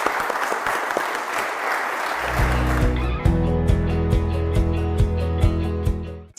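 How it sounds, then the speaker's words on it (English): Audience at a Delaware candidate forum applauds a candidate, steady crowd clapping that continues as music fades in underneath and carries to the end. "please join me in a round of applause for Mr."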